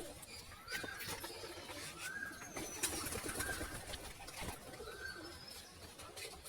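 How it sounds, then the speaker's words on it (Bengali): Pigeons, including a Rampuri pigeon, coo indoors in several soft rising calls spread across the recording, over faint background rustle and noise. "সব পায়রা ভাই আমাদের ঘরে ঢুকে গেছে।"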